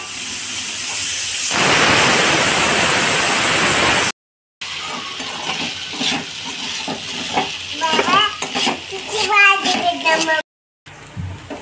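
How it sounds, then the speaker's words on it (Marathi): Sabudana frying in ghee with a steady sizzling hiss, stirred in a pan, loud and close at first, then lighter scraping and stirring with clinks, while a voice talks over it intermittently. "आता असं तुपात फ्राय करून घेतलंय."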